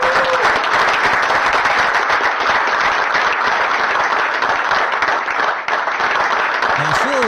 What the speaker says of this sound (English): you can hear everybody clapping for both Marcus Semien and Kirby Yates